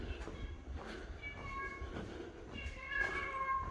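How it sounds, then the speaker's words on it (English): A cat meows repeatedly inside a church along the Via Dolorosa in Jerusalem, its cries moderately close over a steady hum of room noise and distant activity. "Oh, I can hear a cat talking to us."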